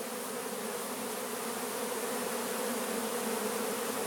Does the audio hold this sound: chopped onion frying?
no